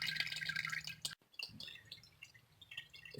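Transmission fluid dripping from the open check plug of a 2012-2015 Honda Civic with an automatic CVT, the car raised on ramps; soft close drips and trickles come one after another, with a brief quiet gap partway through.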